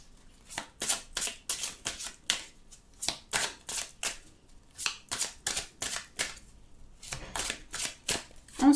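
Oracle cards are handled and flipped, giving a quick run of crisp papery flicks and slaps, some evenly spaced and some clustered, close and clear with no talking.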